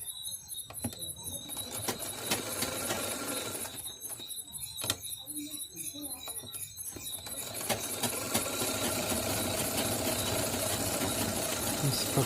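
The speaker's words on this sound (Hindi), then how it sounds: "इस प्रकार से चारों तरफ सिलाई लगाएं।" Sewing machine stitching a katori blouse, a steady high mechanical whir running throughout with a brief pause in the middle, close and moderately loud.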